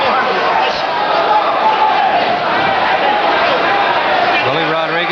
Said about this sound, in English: I guess it's the crowd's too loud to go to sleep on.